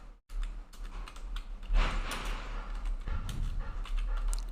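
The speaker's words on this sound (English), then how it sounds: "I am typing here on the basis of above" Fingers type on a computer keyboard in a steady run of soft, close clicks and taps, heard alone with no talk.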